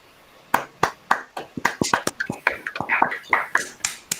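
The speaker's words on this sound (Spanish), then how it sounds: "Te brindamos un aplauso" Sparse applause at the end of an online meeting, a few separate hand claps that start slow and uneven, then quicken into a loose, irregular patter, close and clear with faint voices underneath.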